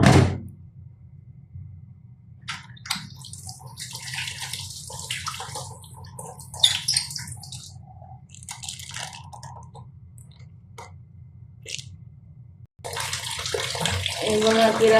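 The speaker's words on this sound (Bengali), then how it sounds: "এখন ধুয়ে নিব" Tap water runs steadily into a kitchen sink while Red Sea hilsa fish are rinsed under it, with soft handling clatter and a brief knock. The flow cuts off and then resumes louder near the end.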